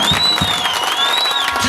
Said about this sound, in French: je demande à l'assemblée d'applaudir pour les âmes sauvées